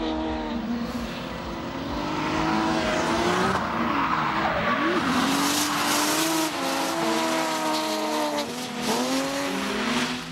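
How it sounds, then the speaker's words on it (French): Drift cars, one a BMW, battle at a French drift championship round in Bordeaux, with tires squealing in long wavering screeches over roaring engines, loud and continuous throughout. "Yvon Buisson qui arrive totalement à l'équerre, même 3 à l'équerre"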